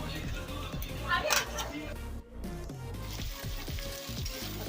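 Onion sizzles in hot oil with cumin and dried red chillies, a steady frying hiss with stirring scrapes underneath and a brief break midway, while someone talks over the cooking.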